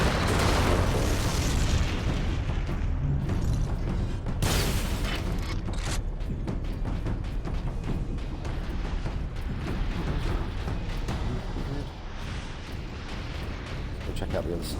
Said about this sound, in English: 3 shots with the las cannon